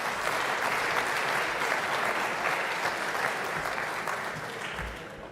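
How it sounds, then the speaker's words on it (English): Audience applause at an energy cooperation meeting, a steady dense wash of clapping from a large crowd that holds throughout and tapers slightly at the end. "Feel free to applaud to cover the awkwardness."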